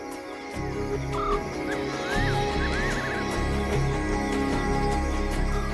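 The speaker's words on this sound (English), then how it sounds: "The guinea fowl are settling down for the night." Guinea fowl settling to roost high in a tree at night on the African savanna give scattered harsh, cackling calls over a steady droning background.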